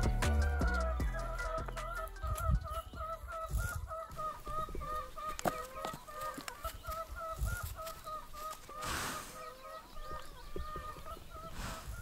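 Hens on a farm clucking and cackling as they come out into the yard, several birds calling in a busy repeating chorus at moderate distance, with a few louder squawks and no talk.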